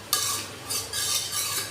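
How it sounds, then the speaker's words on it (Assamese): A spoon stirs village-style butter mutton gravy frying in a pan, scraping and sizzling in a few bursts of strokes, close and fairly quiet, with no talk. "মিহিমিকৈ লৰাই থাকিব"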